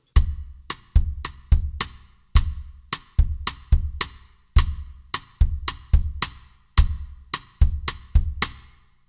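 Bass drum pattern played against a steady quarter-note pulse, with sharp, close, dry hits recurring in a syncopated groove, heard alone with no talking.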